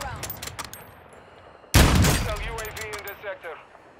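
Gunfire in the Warzone video game: a sudden loud burst of shots cracks out partway through, then fades into echoing tail noise, with voices talking around it.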